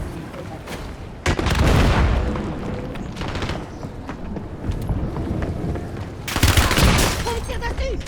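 Video game gunfire aimed at the player: bursts of rapid shots and booms, with loud volleys near the start and end and busier action between.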